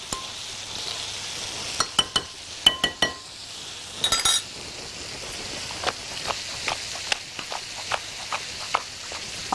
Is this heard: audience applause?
no